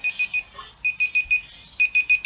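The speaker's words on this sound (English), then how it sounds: "So that's our timer." A workout timer alarm beeps in quick bursts of three or four sharp electronic tones, with short pauses between the groups, clear and close in a quiet room.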